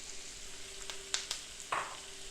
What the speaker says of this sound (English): You can hear the sizzle, I think.